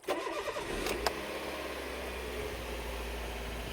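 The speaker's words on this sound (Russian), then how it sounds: "Заводим движок." A Toyota engine, just refitted with a new fuel pump module and fuel filters, cranks briefly and catches, then settles into a steady, low idle hum nearby.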